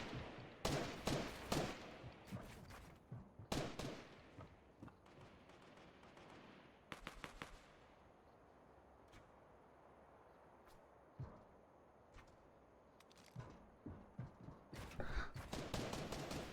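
Gunfire in Fortnite during a trios playoff match: bursts of rapid shots cluster at the start and again near the end, with isolated cracks and a faint ambient bed in the quiet middle stretch.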